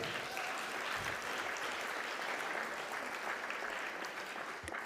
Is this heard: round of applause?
yes